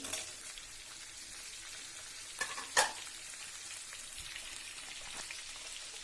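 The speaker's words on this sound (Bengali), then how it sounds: "এবার আমি কেটে রাখা কাঁচামরিচ আর টমেটো দিয়ে দিচ্ছি।" Chopped green chillies and tomatoes frying in hot oil, a soft continuous sizzle with a louder splatter near the middle, fairly quiet and close with no voices.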